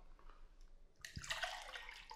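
Water poured into a pot with rice, chicken and crumbled tortas while cooking, a sudden splashing pour that starts midway and continues steadily, fairly close.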